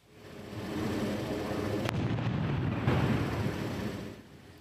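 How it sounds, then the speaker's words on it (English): A police controlled explosion of a suspicious package in Toronto: a sharp blast goes off, then a heavy rolling rumble lingers for several seconds at a distance. "Police conducted a controlled explosion of a suspicious package yesterday evening."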